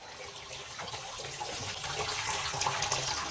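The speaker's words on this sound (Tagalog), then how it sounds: "Ang gripo." A water tap runs in a steady broadband rush, close by and gradually growing slightly louder, with no voices over it.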